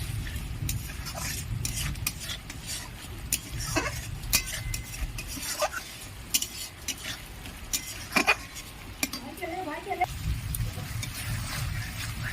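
Spice paste for Bengali rui posto being stirred in a pan, with scattered scraping clicks of a spatula against metal over a soft continuous sizzle, fairly quiet and close.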